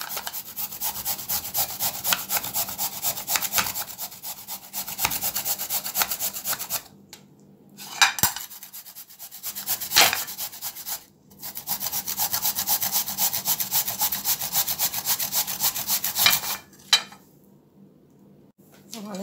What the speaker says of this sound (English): And I need 1 cup of grated pumpkin, so I'm going to grate this.